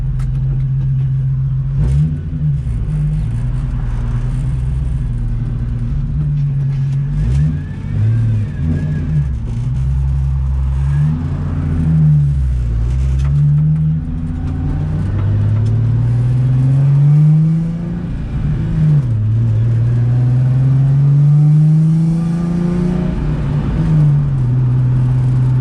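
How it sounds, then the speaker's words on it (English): A Nissan 350z drives on a test run after a wheel bearing replacement; its engine drones steadily from inside the cabin, rising and falling through several accelerations and gear changes over road noise. "let's get this test drive in with that new wheel bearing"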